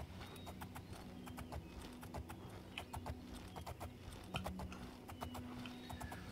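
Horse hooves clip-clopping in the video game Oblivion, a steady quick rhythm of crisp, close hoofbeats at a moderate gallop over a low ambient drone.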